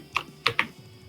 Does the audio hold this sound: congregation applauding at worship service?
no